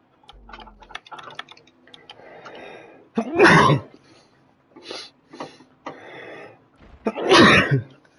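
Two sharp sneezes a few seconds apart, close and fairly loud, separated by quiet breathing and faint clicking in a quiet room.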